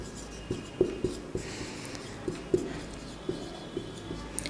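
Chalk or marker tapping and scraping on a board during a Hindi world history class, giving a quiet, irregular series of short knocks and strokes against faint room noise, with no talk.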